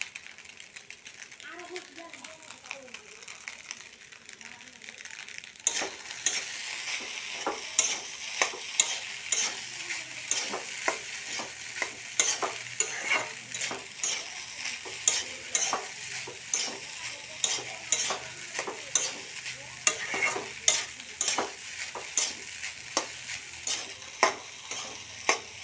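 Rice fried with egg in a pan, a quiet sizzle under a voice at first, then brisk rhythmic scraping and tapping of a spatula stirring the pan for most of the time.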